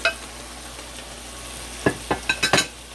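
Tinned sockeye salmon and its juice simmer down in a pan with a soft steady sizzle, then a quick run of five or six clinking utensil stirs near the end.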